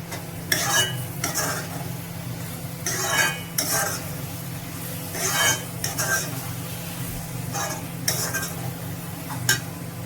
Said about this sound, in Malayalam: തക്കാളിക്കയുടെ പച്ചമണം പോകാൻ നമുക്കൊന്ന് ഇളക്കി കൊടുക്കാം.